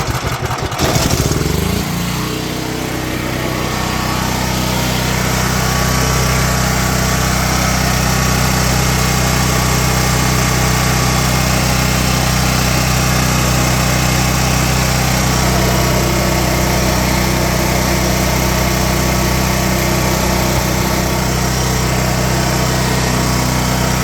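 A cheap small gasoline generator, started on choke, pulls into life and then runs on at a steady, loud, buzzing drone for the rest of the clip, with no talk.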